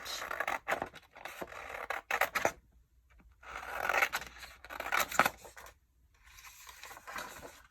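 Scissors cut through fabric in bursts of crisp snipping and scraping, close and fairly quiet, with short silent gaps between cuts while a ruffle snippet piece is cut out.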